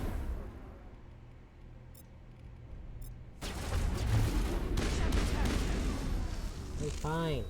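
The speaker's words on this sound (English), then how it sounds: "What are you shooting at?" Mass Effect gunfire erupts partway through as a dense rattle of shots and booms, loud and sustained after a quieter lead-in of ambient hum, with a swooping electronic effect near the end.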